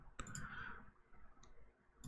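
Sharp mouse clicks in the Unity editor: a distinct click near the start, a faint one mid-way and another at the end, quiet and close against near silence.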